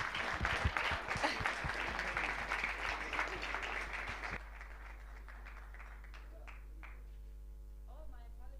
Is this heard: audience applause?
yes